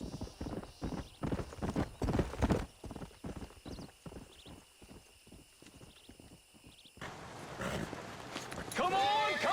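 Horses in the Red Dead Redemption video game: a rapid clip-clop of hooves runs through the first seven seconds, then a loud, wavering whinny rises at the end over a busier background.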